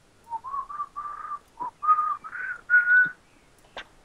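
A person whistles a short irritating tune alone, a series of clear rising and falling notes with brief gaps, ending with a short click.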